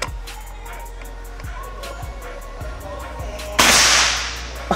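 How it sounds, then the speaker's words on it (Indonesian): A single sharp air rifle shot cracks out during a pellet accuracy test, loud and sudden after a stretch of quiet ticks and faint background noise, with a short decaying tail. "Kita akan coba lagi untuk tembakan yang ketiga."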